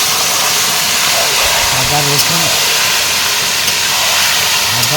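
Marinated goat meat, coated in ginger, garlic, onion paste, yogurt and cumin paste, hits a hot pan in a village kitchen and sizzles in a loud, constant hiss while a person talks quietly underneath.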